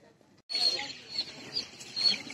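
Chicks and chickens cluck and cheep in short, fairly faint bursts at an outdoor market stall, with a brief gap before the sounds start.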